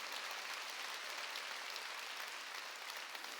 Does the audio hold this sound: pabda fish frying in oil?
no